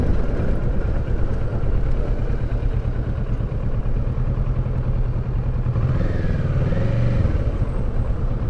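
A 2018 Kawasaki Versys 650 ABS Tourer motorcycle idles and putters close by as it is eased into a parking spot on uneven pavement, with a brief rise in engine pitch near the end.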